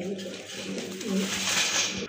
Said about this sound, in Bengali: মাশাআল্লাহ আরেক জোড়া কবুতর দেখতে পাচ্ছেন টকটকে লাল বোম্বাই কবুতর